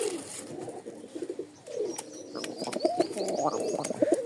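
A light-coloured male Giribaz pigeon coos up close in soft repeated throaty bursts, with faint chirps from other birds nearby.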